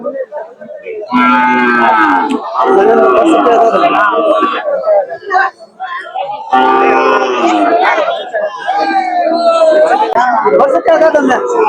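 Cows moo loudly and repeatedly at a cattle market, long drawn-out calls close by, with crowd chatter in the background between them.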